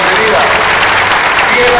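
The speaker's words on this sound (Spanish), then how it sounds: "para que le dé un aplauso" Concert audience in Fresnillo applauding, a loud dense wash of clapping with speech over it.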